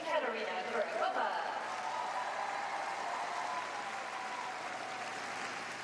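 An arena audience at Skate America 2021 applauds to welcome figure skater Ekaterina Kurakova of Poland, a dense, steady wash of clapping and cheering that holds loud for several seconds with an announcer's voice briefly over it.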